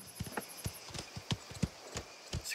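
Horse hooves clop steadily in the Mafia The Old Country video game, a close, irregular run of about a dozen sharp impacts with no talking over them.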